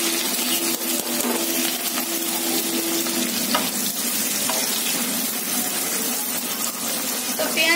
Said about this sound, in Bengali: তো ওই তেলের মধ্যে দিয়ে দিচ্ছি পেঁয়াজ কুচি